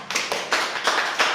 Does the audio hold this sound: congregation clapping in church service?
yes